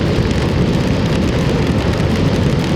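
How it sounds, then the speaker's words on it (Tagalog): Heavy typhoon rain at a small farm in the Philippines pours down in a dense, steady roar, loud and unbroken throughout with no voices. "Lumalakas pa po yung ulan, oh."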